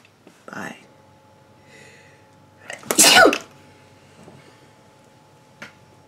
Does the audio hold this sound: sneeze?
yes